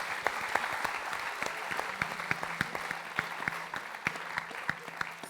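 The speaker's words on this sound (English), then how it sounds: "Let's give them a round of applause." A modest audience claps steadily throughout, a sustained patter of applause from a smallish crowd with no talking.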